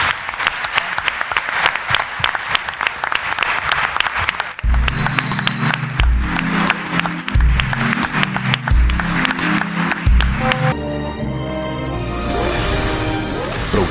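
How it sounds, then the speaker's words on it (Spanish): Sustained applause from an audience at a candidates' forum in Guatemala, dense clapping throughout, joined midway by loud rhythmic bass-heavy music that continues under the clapping to the end. "cerramos con un aplauso más para los candidatos"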